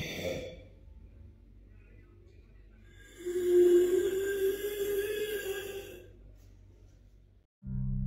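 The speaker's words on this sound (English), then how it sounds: "A terrifying noise resembling raspy breathing and moaning" A long, drawn-out raspy breath with a low moaning tone swells for a few seconds, then fades, surrounded by quiet, hollow background noise.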